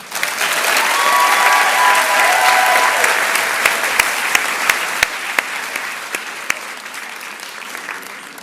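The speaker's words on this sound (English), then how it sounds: "judging by your rounds of applause" Loud, sustained applause from an audience at an autumn new-season launch event, filling the whole stretch and slowly thinning toward the end, with a few sharp individual claps standing out.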